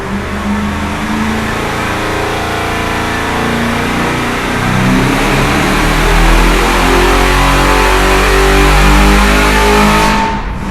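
A big block Chevy V8 runs at full throttle on a dyno, a loud, sustained, close roar of dense engine noise for about ten seconds that cuts off abruptly at the end.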